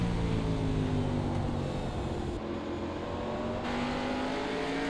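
A race car engine at Martinsville Speedway in a sim racing game holds a steady, loud, droning tone that shifts in pitch as the throttle eases, with other engines layered beneath it and no talking.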